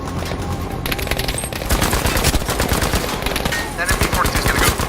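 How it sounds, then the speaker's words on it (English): Rapid machine-gun bursts from an MG42 in the World War II shooter Battlefield V, loud and close, with dense repeated gunfire and other battlefield shots continuing across the whole stretch. "Keep my head down for that MG42."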